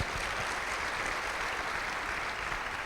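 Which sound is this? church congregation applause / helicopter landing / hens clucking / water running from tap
church congregation applause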